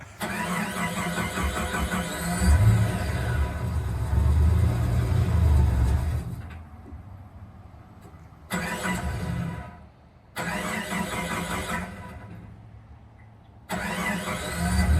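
A gas car engine start sound played through a Tesla Cybertruck's external speaker: a loud rumbling crank and rev that swells and holds, then drops to a quieter idle broken by short pauses and renewed bursts.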